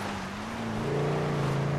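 A Sabre Turbo car engine in GTA 5 holds a steady, loud drone with a tone that rises slightly in pitch, heard alone and continuous without any talking.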